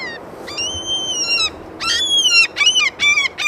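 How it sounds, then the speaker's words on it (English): Seagull calls ring out near Amsterdam Schiphol Airport, a series of loud, nasal, repeated cries, first a drawn-out wail, then several quick, clipped squawks, close by over low background hum. "As a seagull is making some noise before us."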